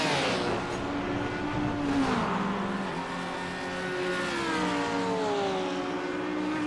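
A Porsche GT3 race car engine in a racing video game howls steadily. Two clear downshift drops come, then a rising pull as it accelerates again, with no voices.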